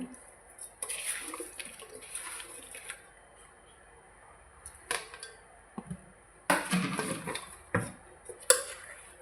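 Mushrooms being gently washed by hand in salted water, with soft intermittent splashes and sloshing in short bursts, close and fairly quiet, heavier swishes toward the end.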